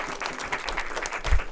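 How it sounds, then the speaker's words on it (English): Large crowd applauding outdoors on a chilly morning at the grand reopening of the Lake Community Branch library, a steady mid-level patter of claps with a brief low thump near the end. "Just give yourself a round of applause."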